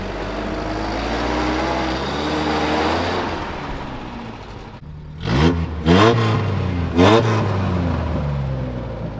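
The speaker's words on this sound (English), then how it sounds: "I'm in four now. I'm trying to burn out." A car engine idles with a steady rumble, then revs hard in three sharp bursts in fourth gear during a burnout attempt, the exhaust roaring up and dropping back each time.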